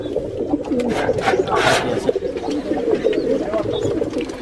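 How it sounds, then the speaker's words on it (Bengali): Pigeons coo steadily in a pigeon farm, several birds overlapping in a dense, close chorus with wing flutters and faint voices mixed in. "মাশাআল্লাহ, খুবই সুন্দর কবুতর, অবশ্য ডিম দিছে।"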